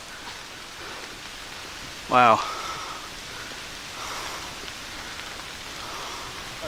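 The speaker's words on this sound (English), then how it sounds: "The rain is not stopping. It's coming down worse, but we're already soaked." Heavy rain pouring steadily on a mountain hike, a constant hissing wash of drops throughout, with one person briefly exclaiming near the middle.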